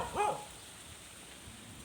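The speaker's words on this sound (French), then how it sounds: "Et les aboiements" A single short bark from a dog in a village in Isan, Thailand, heard faint and somewhat distant near the start, followed by quiet background.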